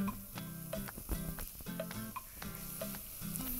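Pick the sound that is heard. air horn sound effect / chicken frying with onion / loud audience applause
chicken frying with onion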